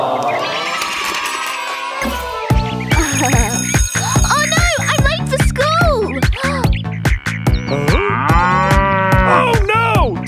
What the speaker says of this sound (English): A cow needs saving?